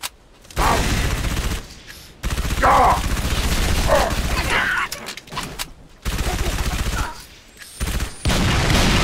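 Rapid bursts of gunfire in Halo: The Master Chief Collection come in several loud volleys separated by short gaps, with a voice shouting over the shooting.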